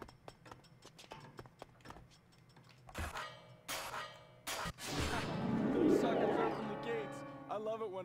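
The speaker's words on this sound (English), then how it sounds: "All right, ring the bells." Bells ringing in the skateboarding video game Tony Hawk's Underground, sounding as clangs and resonant tones that swell over the second half amid game sounds.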